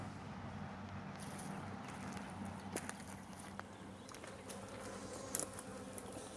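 Honeybees hum steadily around a freshly set-up backyard beehive where caged queens are being released, a faint, continuous buzz with a few soft knocks and no talking.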